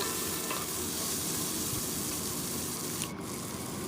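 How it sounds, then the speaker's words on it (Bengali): Onion and tomato frying together in oil for a Bengali chicken curry make a dense, continuous sizzle that stays loud and even throughout, close to the pan, with a brief splash near the end and no talking. "পেঁয়াজটার সাথে টমেটোটা ভালো করে একসাথে ভেজে নিচ্ছি"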